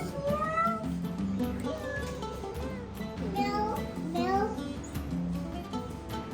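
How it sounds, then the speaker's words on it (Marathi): Several cats at the Souq Doha market in Qatar meow repeatedly in rising and falling cries, close by and fairly loud, with people talking over them in a busy market setting. "इथे वेगवेगळ्या प्रकारच्या मांजर्स आहेत कॅट्स आहेत"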